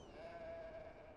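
A single faint, drawn-out sheep bleat from the video game Beyond: Two Souls sounds over a steady low background, distant and quiet.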